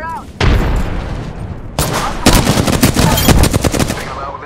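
Rapid automatic gunfire in the Apex Legends battle royale shooter, loud and close, with sustained bursts of shots and a short pause partway through before dense firing resumes.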